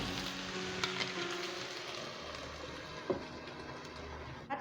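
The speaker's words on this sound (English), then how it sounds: "Our pork is cooking to get really crispy." Pork fries in a pan until crispy, giving a low, even crackle and sizzle that runs throughout with a few soft pops and a light knock near the end, and no voices.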